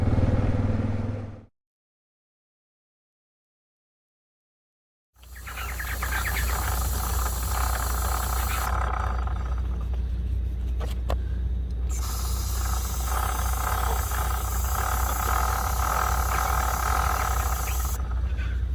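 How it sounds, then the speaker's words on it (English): Lube sprays onto the chain of a Suzuki DR650 motorcycle at an outback campsite. A steady, close hiss runs for about thirteen seconds after a short burst and a pause. "So I'm just here giving the chain a bit of a lube."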